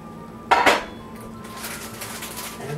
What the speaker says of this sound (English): Next, I'm going to take the lid off